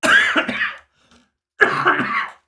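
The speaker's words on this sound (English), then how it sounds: "Sorry, I'm coughing a lot, guys." Two harsh bursts of coughing, each a rapid cluster of hacks, separated by a brief silent pause, close and loud.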